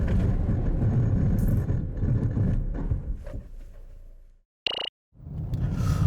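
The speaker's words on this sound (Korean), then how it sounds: "이번에는 제동 성능을 볼까요?" A Renault Captur 1.5 dCi braking-performance test: steady loud road and engine rumble for about four seconds that fades toward silence as the car stops, followed by a brief sharp tone and renewed noise.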